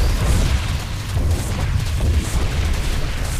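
Zerg banelings bursting against Protoss pylons and cannons in StarCraft 2, a loud, dense cluster of overlapping low booms and splashy pops that keeps going for a few seconds.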